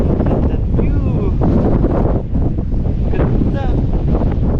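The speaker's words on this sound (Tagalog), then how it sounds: "Sobrang lakas ng hangin." Strong, cold wind at a scenic spot in Pasuquin, Ilocos Norte, buffets the microphone with a loud, continuous roar and gusting rumble, with a voice partly audible beneath it.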